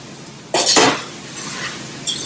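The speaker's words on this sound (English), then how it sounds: "Give that a good stir" Metal utensil scraping and clanking against a cooking pan as chicken and its juices are stirred, two quick close bursts followed by a softer stir and a final clink, with no talking.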